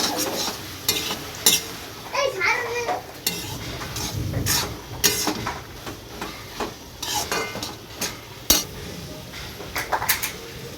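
Dal tempered with spices in hot oil hisses and sizzles while a spoon scrapes and clinks against the pot in irregular strokes, close and fairly loud, with the sizzle swelling in bursts.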